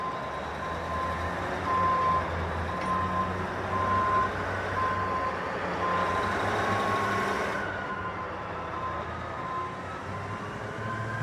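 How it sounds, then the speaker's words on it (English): Dump truck arriving in a salt mine tunnel, a low rumbling engine drone with a steady repeating reversing beep, building slightly louder midway, then settling. "I'm just waiting for the dump truck to show up"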